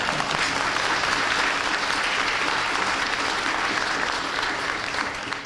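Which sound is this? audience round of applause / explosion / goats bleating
audience round of applause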